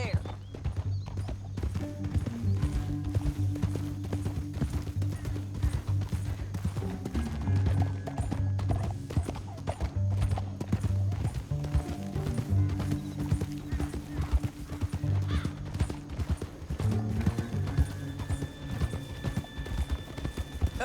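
Horse hooves clip-clop at a steady gallop in Red Dead Redemption 2, rhythmic and continuous with an occasional whinny, under characters talking.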